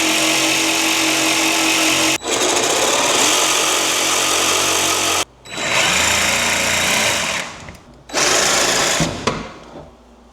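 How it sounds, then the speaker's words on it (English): A jigsaw cuts through an RTA cabinet panel in three loud buzzing runs, the blade chattering rapidly with short pauses between cuts, close up. "You're gonna wanna clean that up with a jigsaw."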